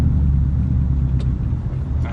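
Mercedes W210 E55 AMG V8 with deleted mufflers accelerating, a loud, close, sustained low engine rumble holding steady across the whole moment with no talk.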